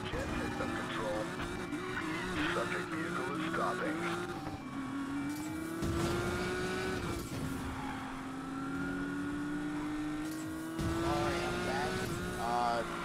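A Porsche 911 Carrera RSR roars through a Need for Speed Payback race, its engine pitch rising and falling as the tires squeal and skid, with someone talking over the game sound throughout.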